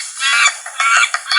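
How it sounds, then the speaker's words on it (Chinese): A duck quacking sound effect plays from an App Inventor sound player, a short run of several loud, nasal honking quacks in quick succession, alone and clean. "这是我们当时讲那个按钮那节课的时候，这个使用过的这个鸭子的这个叫声"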